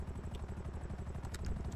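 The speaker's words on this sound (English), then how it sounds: "I'm just gonna RP out waiting for the helicopter to be fueled" Helicopter in a role-play video game idling while being refueled, a faint rapid rotor chop pulsing steadily through the whole stretch.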